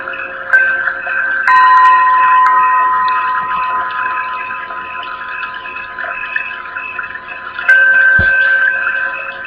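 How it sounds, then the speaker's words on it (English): Tibetan singing bowls ring steadily in the background of a room, with sustained overlapping tones and a few brighter struck onsets, moderately loud with no talk. "The noise you hear in the background are singing bowls."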